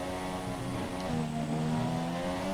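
A Toro Rosso F1 car in the F1 2017 game brakes into the second chicane at Monza, its engine whining loudly and steadily with stepped pitch drops as it downshifts, and no voices over it.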